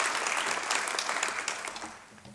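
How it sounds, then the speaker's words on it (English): An outdoor crowd at a memorial dedication ceremony claps in a steady burst of applause that gradually thins out and fades. "If so, give an applause because you feel the spirit of the day."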